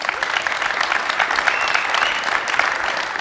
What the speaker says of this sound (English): Give him an applause, please